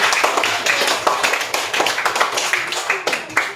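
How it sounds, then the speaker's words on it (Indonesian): Students in a fifth-grade maths class clap for a classmate named Alfariji, a dense, steady burst of many hands lasting a few seconds with some voices mixed in. "tepuk tangan buat Alfariji"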